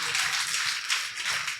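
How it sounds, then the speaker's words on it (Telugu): A church congregation at Sunday worship claps hands together in a loud, rapid, continuous burst of many people close by. "చప్పట్లు కొట్టండి గట్టిగా"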